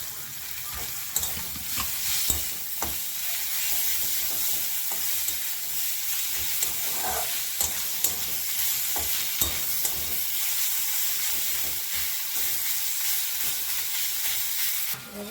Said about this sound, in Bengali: তো দিলাম হলুদ গুঁড়ো লঙ্কা গুঁড়ো দিয়ে এটা আমি মিক্সড করে নেব